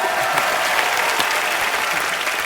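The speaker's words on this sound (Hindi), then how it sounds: "गोविंदा सर के लिए जोरदार तालियां हो जाए।" Dense, loud studio-audience applause for Bollywood actor Govinda on a TV comedy show, a continuous wash of clapping that stays strong throughout.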